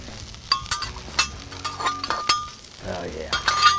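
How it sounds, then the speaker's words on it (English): Hash browns fry on a Blackstone griddle, a soft sizzle broken by sharp metallic scrapes and clinks of a spatula against the flat-top in an irregular rhythm. "Get some hash browns on here."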